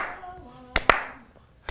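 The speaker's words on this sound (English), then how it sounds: "Clap. Slow clap." A few sharp, widely spaced hand claps ring out close and loud, forming a slow clap after fading background tones.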